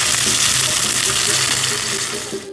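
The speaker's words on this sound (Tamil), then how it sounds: "அடுத்து கடுகு உளுந்து ஆட் பண்ணிக்கிறேன். அடுத்து இது கூட கருவேப்பிலையும் ஆட் பண்ணிக்கிறேன்." Mustard seeds, urad dal, cumin and curry leaves fry in hot oil with a dense, continuous sizzle and crackle that stays loud and close, then eases off at the very end.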